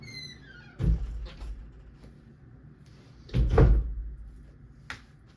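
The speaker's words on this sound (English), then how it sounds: "let me close my door" A room door swinging shut indoors, with two soft thuds of the door and latch a few seconds apart, fairly quiet over a low background hum, with no voices.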